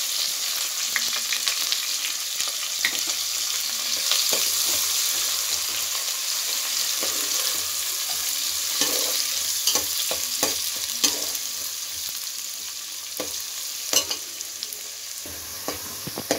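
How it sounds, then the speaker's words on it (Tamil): Onions frying in hot oil with mustard seeds for a Tamil fish curry, with a steady sizzle and repeated scraping stirs of a spoon against the pan throughout, close and alone. "இப்போ வெங்காயம் பாருங்க இந்த அளவுக்கு வதங்கிடுச்சு."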